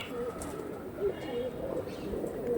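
Kalshira pigeons coo in short soft calls repeated at close range, heard over steady background noise.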